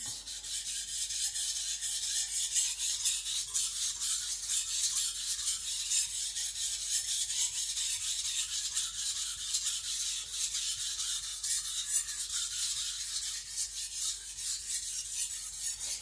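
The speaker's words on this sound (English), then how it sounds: "doing a quick sharpening on 1000 and 3000" A Sakon Ryuga gyuto knife is sharpened on Naniwa whetstones, giving a continuous close rasping scrape of steel stroked rhythmically back and forth across the stone, with no talking heard.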